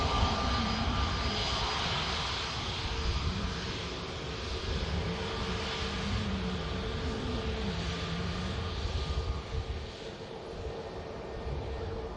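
An EasyJet airliner landing and taxiing at Manchester Airport gives a steady, moderately distant engine roar that holds throughout and fades slightly toward the end.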